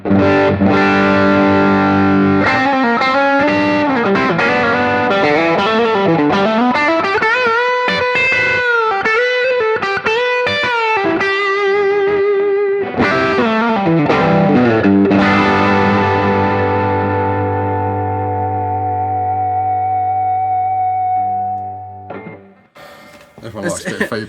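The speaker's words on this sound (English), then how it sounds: "This is the second stage overdrive." Electric guitar played through the second stage overdrive of a Way Huge Doubleland Special Overdrive pedal, a loud distorted lead with sliding bends and sustained held notes, ending in a fading chord.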